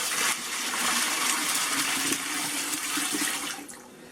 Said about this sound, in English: pour this brine in.